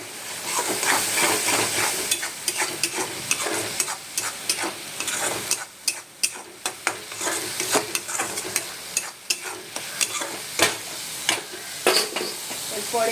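Spices, including ground coriander, being stirred as they fry in a hot pan: a steady close sizzle with repeated scraping and stirring clicks throughout, no voices.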